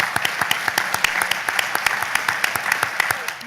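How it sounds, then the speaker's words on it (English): A theatre audience applauds six finalists at a Rotary speech competition final, a dense, steady round of clapping from many hands that carries through without talk. "Let's give all six a round of applause, shall we,"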